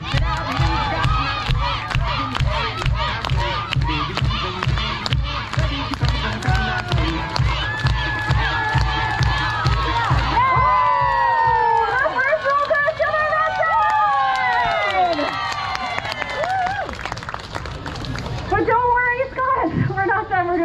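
An audience at a live lumberjack log rolling show cheers, starting with rapid rhythmic clapping and then breaking into loud whistles, whoops and shouting from a large crowd.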